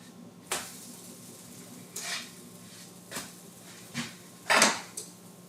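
Pumpkin pancakes are flipped in a pan, with five distinct clinks and taps of a utensil against the pan at spaced intervals over a quiet background.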